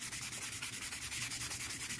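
Hand sanding a polymer clay pendant with sandpaper, a rapid, even back-and-forth scratchy rasp repeating about four to five strokes per second, close and steady with no talking.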